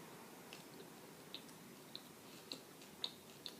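Someone chews a moist dried fig. Its seeds give faint, sharp little crunches at irregular intervals, about half a second apart, over a quiet, close background.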